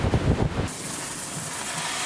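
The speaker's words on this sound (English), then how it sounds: "It's windy as hell out here." Strong wind buffeting a microphone at a Lake Havasu truck campsite: heavy low rumbling gusts at first, then a steadier broad rushing hiss that carries on without talk.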